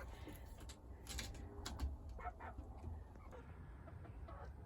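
Backyard chickens, young laying hens, cluck and chirp faintly at close range in a scattered, irregular rhythm over a low background rumble.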